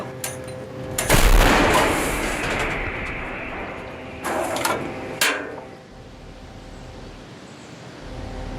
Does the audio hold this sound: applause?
no